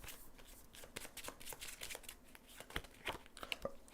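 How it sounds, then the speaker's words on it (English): Playing cards shuffled and flipped through during a tabletop game of Heat, a run of soft crisp riffles and flicks close by, ending in a sharp louder snap. "I'm just flipping cards as I nervously shuffle."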